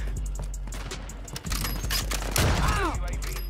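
Gunfire in a shooter video game: dense bursts of shots crack through the mix, overlapping with other game effects and a whistling whoosh near the end, with a voice talking now and then.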